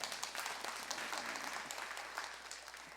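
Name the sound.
applause in church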